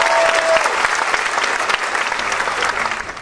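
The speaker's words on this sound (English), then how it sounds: "Give them a big round of applause." A theatre audience claps steadily for the contestants of a live man-or-mouse competition on stage, the dense applause filling the room throughout before thinning slightly at the end.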